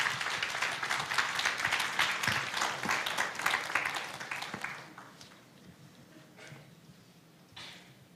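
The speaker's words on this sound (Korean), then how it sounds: "여기 나오실 때까지 박수하겠습니다." A church congregation claps vigorously for several seconds before the applause thins and fades into a quiet room, leaving a few scattered claps and faint rustling.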